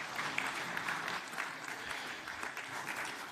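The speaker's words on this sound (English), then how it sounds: "I think we should give Matty Payne a big round of applause" Audience applause at a football awards ceremony, a dense steady wash of clapping from a roomful of people, moderately distant, filling the whole short stretch without a break.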